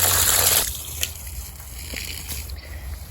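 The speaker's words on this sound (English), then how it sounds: "I always like to give whatever tree or whatever I plant a good dousing of water once I get it" Water is poured onto the soil around a newly planted June plum tree, a loud gush for the first half second, then a quieter trickle and scattered drips as it soaks in.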